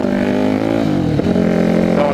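A Yamaha WR supermoto motorcycle engine held at high revs during a wheelie, a loud close droning buzz with a brief dip in pitch midway before climbing again.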